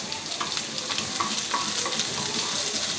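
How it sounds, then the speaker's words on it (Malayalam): Chopped onion sautéing in an oil-slicked pan while making an egg sandwich gives a steady, close sizzle and crackle with faint stirring, and no voices. "അതിലോട്ട് ഒരു അരിഞ്ഞു വെച്ച സവാളയും ഇട്ടൊന്ന് വഴറ്റണം"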